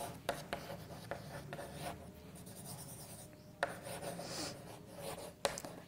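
Handwriting on paper during a class writing lesson, faint scratchy strokes with small taps and pauses, close up and quiet, with no talking.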